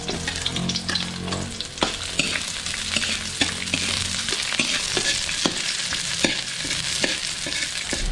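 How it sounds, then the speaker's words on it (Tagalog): Garlic and onion frying in oil before bottle gourd goes into the pan, a steady loud sizzle close by, punctuated by regular clicks and taps of a spatula stirring. "Lagay lang tayo ng mantika, bawang, sibuyas."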